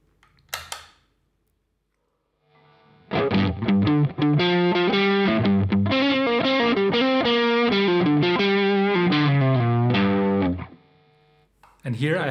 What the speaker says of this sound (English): If I want more, I can go for the distortion channel.